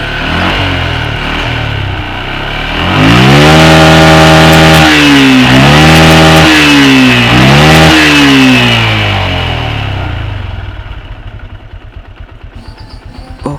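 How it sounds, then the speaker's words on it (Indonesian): Yamaha MX motorcycle engine freshly serviced after carburetor tuning, revved loudly and close in three sharp blips over a steady idle, then settling back to a rough, clattery idle. "kita coba cek geber-geber ya bro"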